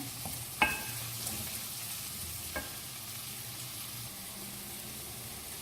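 White onions frying in a pan for a baingan bharta: a soft, steady sizzle with a couple of sharp utensil clicks, low and even throughout.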